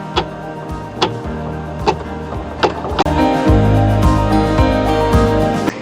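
An embroidery machine stitches a felt egg applique, rapid regular mechanical ticking with a motor hum, near and loud, picking up speed into a denser steady run in the second half.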